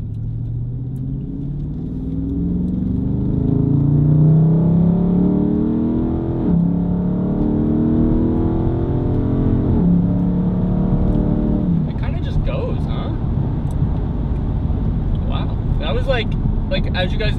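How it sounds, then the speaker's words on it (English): A Dodge Charger 392 Scat Pack Daytona Edition's V8 exhaust rumbles loud and close, rising and falling through several revs, with people talking over it in the second half. "Just testing out the exhaust, you know, making sure it sounds good."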